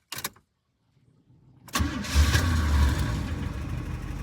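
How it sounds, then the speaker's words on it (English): A Chevrolet Vega drag race car cranks briefly, then after a short silence its engine fires up and settles into a loud, rough idle close by, with no one talking. "Let's see how she fires. I'm gonna guess she fires right up."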